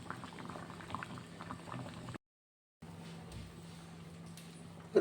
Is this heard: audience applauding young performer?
no